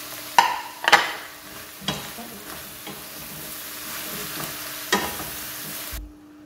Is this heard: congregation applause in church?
no